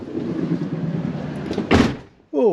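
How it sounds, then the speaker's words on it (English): A camper van door, on an Autotrail V-Line 635 Sport, slides and shuts with a short, firm clunk after a stretch of low rumbling background, then a voice speaks briefly. "You go and close the door."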